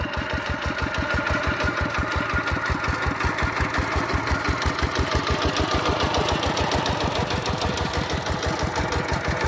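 An old tractor engine idles steadily with a fast, regular chugging knock, loud and close, running alone without voices.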